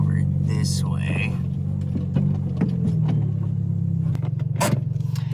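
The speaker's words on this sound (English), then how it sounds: "we are just pulling up here at the bays or at Car Supplies Warehouse" A car's engine idles and rolls slowly into a parking bay outside a Car Supplies Warehouse store, a steady close low rumble with light scrapes, while a person talks over it.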